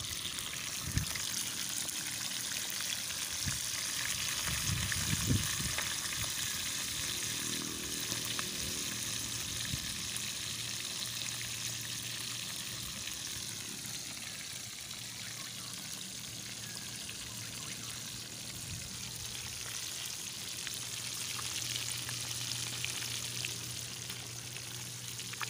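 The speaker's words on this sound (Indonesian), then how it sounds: "Ini goreng ikannya jangan satu ini ya, satu arah" Fish fries in a pan during outdoor cooking in the mountains, a soft continuous sizzle and bubbling, with a few utensil knocks near the start and a low hum running underneath.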